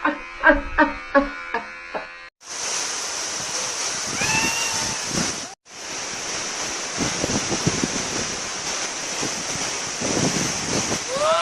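A steady, loud roar of falling water rushes continuously at the foot of Bedegung waterfall, broad and hissing, after a brief opening of other sounds.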